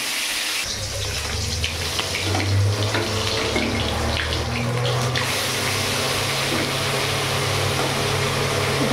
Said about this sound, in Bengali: আবার এই ভেটকি মাছটা আমি ভেজে নিই